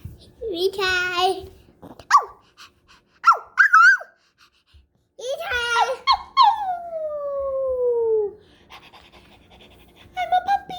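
A young child imitates a puppy, with yips, pants and a long drawn-out falling howl, sounding close and alone against a quiet background.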